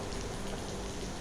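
Rain falls steadily in East Bali, a continuous, even hiss of drops striking surfaces, soft and unbroken throughout with no voices.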